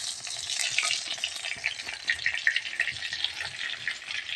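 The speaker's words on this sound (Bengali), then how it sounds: "এদিকে ফোড়নের জন্য আমি রেডি করে নিয়েছি তেজপাতা, একটু আস্ত জিরে, আর হচ্ছে এই যে গোটা গরম মশলা আমি থেতো করে নিয়েছি। এটা আমি তেলে দিয়ে দেব।" Whole spices fry in hot oil: bay leaf, cumin seeds and crushed whole garam masala, giving a soft, steady close sizzle and crackle with no talking.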